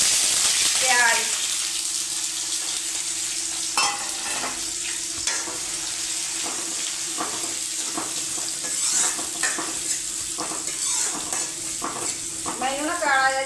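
Cumin seeds with fenugreek seeds and asafoetida roast in hot oil for an aloo chole dish, giving a continuous, fairly loud sizzle with occasional scraping and stirring sounds over it.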